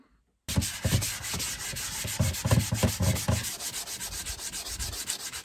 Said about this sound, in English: So I'm just going to sand them down